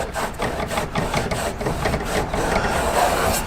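A vacuum cleaner sucks up debris on a kayak during an accessory mount installation, a steady close, fairly loud motor whine with a slightly pulsing texture throughout.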